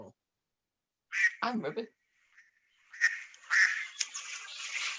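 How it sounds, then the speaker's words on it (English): A mallard duck gives a few short, raspy quacks in bursts, fairly close, with a person speaking briefly between the calls. "A duck. It is a duck. Ah, It is a mallard."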